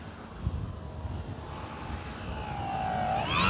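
An E-flite Sportix 1.1 m RC airplane coming in to land on a runway, its faint electric motor whine rising and swelling near the end over steady wind noise.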